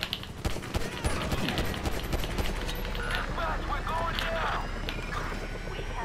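Gunfire in Grand Theft Auto V during a fight with SWAT helicopters from a bridge in Los Santos. Sharp, loud shot bursts open the clip, then fade into rumbling engine and wind noise, with a voice talking over it.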